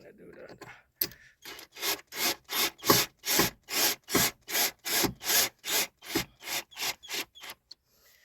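A WORKPRO 8V cordless mini drill sinks a 4-inch screw into a wooden joist, giving a fast string of about eighteen evenly spaced grinding bursts, close and loud, that stop abruptly at the end.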